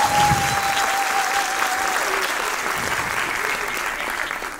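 Applause from a group, steady and fairly loud throughout, with a faint tone running beneath it during a mock awards show.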